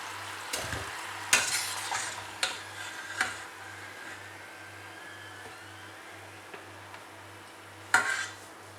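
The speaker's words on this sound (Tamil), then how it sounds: "சூப்பராக ஆகிடுச்சு சமோசா, நல்லா வறுப்பட்டுடுச்சு." Mini potato samosas frying in oil, a steady low sizzle running throughout with a handful of sharp clinks and taps from a utensil against the pan, no voices.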